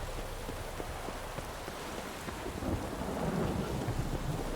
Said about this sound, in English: I'd kill to have thunderstorms like that on a regular basis.